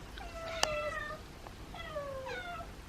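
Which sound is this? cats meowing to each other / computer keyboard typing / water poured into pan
cats meowing to each other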